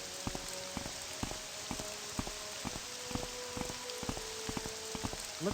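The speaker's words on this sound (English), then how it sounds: "most of you guys probably do not like the rain, but I, for one, really like it" Steady rain pours down in Morrowind, a dense hiss of drops spattering on surfaces, with a continuous broadband wash broken by faint, brief clicks and thuds from the game, and nobody speaking.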